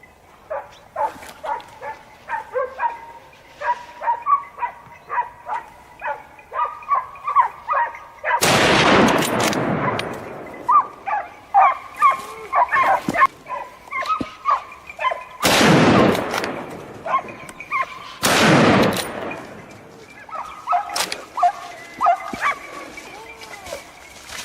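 Hunting dogs bark repeatedly and excitedly during a wild boar hunt, punctuated by three loud, sharp gunshots that ring out at intervals amid the yelping.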